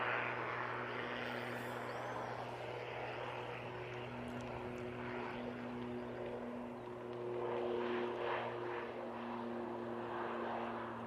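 ATR turboprop airliner at Manchester Airport, a steady droning propeller hum with broad engine rumble that holds fairly constant throughout, heard from a moderate distance outdoors without talk.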